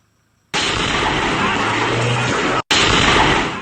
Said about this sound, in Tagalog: malakas na pagsabog ang barangay Butaw dito nga sa Cabuyao, Laguna